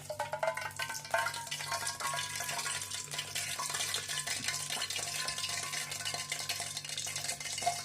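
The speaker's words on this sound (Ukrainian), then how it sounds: "Помідорчики можуть навіть трошки скварчати, це нормально" Hot oil poured over spiced sun-dried tomatoes packed in a jar, making a continuous close bubbling, crackling sizzle that runs unbroken throughout with no voices.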